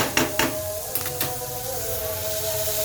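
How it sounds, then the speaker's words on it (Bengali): Chopped green chili, onion and capsicum frying lightly in ghee in a pan, a soft steady sizzle and hiss with a couple of sharp clinks of utensil against the pan near the start. "কাঁচা লঙ্কা কুচি, পেঁয়াজ কুচি আর ক্যাপসিকাম কুচি একটু হালকা ঘি দিয়ে ভেজে নিচ্ছি"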